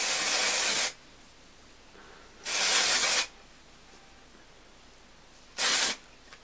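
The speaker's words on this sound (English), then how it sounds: "This is the L'Oreal Volumetry Powder Fresh Spray SOS Volume for fine hair." Three separate bursts of L'Oreal Volumetry dry shampoo aerosol spray hiss loudly and close by, each lasting under a second, with quiet pauses between them.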